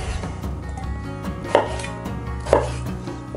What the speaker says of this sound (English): Few potatoes. Just quarter them.